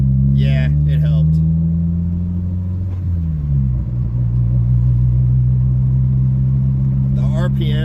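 A boosted Honda Civic EG engine at steady idle after an idle air control valve replacement, a deep continuous close drone whose pitch dips and settles midway, with a voice speaking briefly at the start and end.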